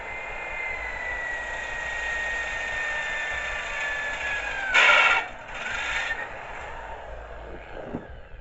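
A power drill boring holes through a trailer frame during restoration, a steady high whine running continuously with a pitch that slowly drops, then a couple of louder harsh bursts as the bit bites near the end.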